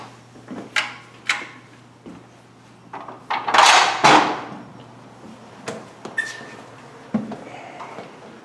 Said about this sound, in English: The jail's doors are about 300 pounds each.